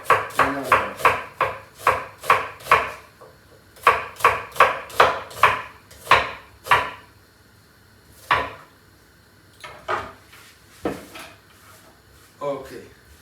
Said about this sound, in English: then I cut the onion